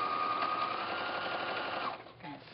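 A sewing machine runs steadily, stitching binding through the backing, batting and top layers of a quilt, then stops near the end with a short mechanical settle.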